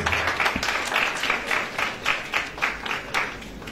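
An audience at a regional school competition claps for a high school team coming on stage, the applause arriving in uneven rhythmic bursts, moderately loud with no talk.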